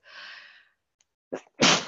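A soft breathy intake leads into a short pause, then a sharp, forceful sneeze bursts out close by.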